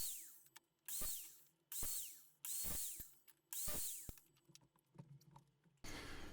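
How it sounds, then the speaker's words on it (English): A handsaw rasps through a wooden dowel in several steady strokes, each stroke a loud swell, then a brief pause before the next, ending in a short burst. "now we just want to cut 5 lengths of dowel off"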